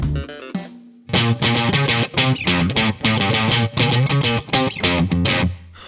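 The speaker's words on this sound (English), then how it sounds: "distortion isn't limited to synthesizers. We can use it as a pedal sim or a modern guitar tone" A distortion plugin on a guitar tone, heavily distorted and saturated, plays a rhythmic riff of chopped chords, loud and dense, with no one speaking.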